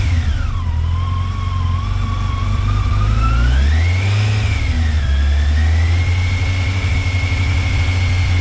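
Car engine revving steadily upward toward 3000 rpm, its pitch climbing, dipping and holding high, loud and close with a continuous drone and no voices.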